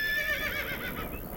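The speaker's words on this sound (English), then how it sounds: "did you hear that horsey neigh" A horse in the video game Minecraft, fitted with realistic sounds, lets out one clear whinny with a wavering, descending pitch, close and alone, with no talking.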